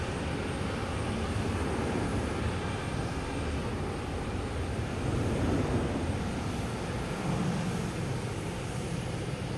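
JetBlue Airbus A320 jet airliner at Boston Logan, heading out to Fort Lauderdale; a steady, fairly distant broadband jet rumble and hiss that swells slightly midway, with no talking.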